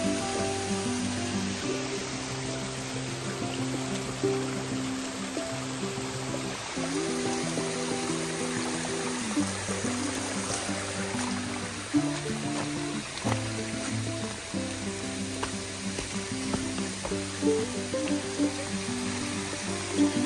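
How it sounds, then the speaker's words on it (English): Waterfalls along the Appalachian Trail pour out a steady, unbroken rush of water that stays even and moderately loud throughout, with no voices. "two waterfalls."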